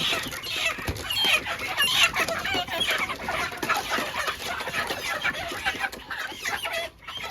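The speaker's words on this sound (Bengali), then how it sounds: "ভিতর থেকে মুরগি ধরে আনতে" Many chickens clucking and squawking inside a poultry farm shed, a dense continuous chorus close by with occasional louder calls and faint crowing.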